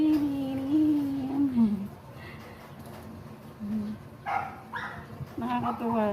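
Young adopted puppies give a few short whines and yelps, close by and fairly soft, with gaps between them and a little bird chirping in the background.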